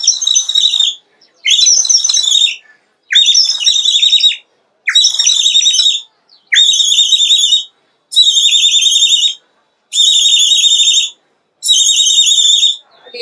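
A clay whistle imitates a bird call at the Sonepur fair in eight loud, shrill warbling bursts, each separated by a short pause.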